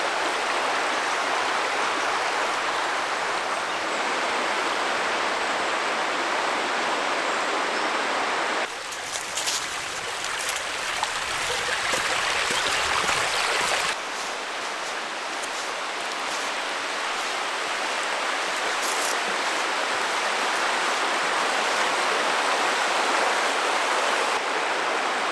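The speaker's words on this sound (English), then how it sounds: "There's lots of fast flowing water and rocks to kind of stand on top of them" Fast-flowing water of the River Dart rushes over rocks, a loud, close, continuous roar that briefly shifts in tone midway, with no talking.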